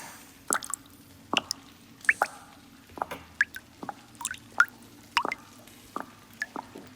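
Liquid dripping during an ASMR roleplay, a dozen or so close, crisp drops and plops in a slow irregular rhythm over a quiet background hum.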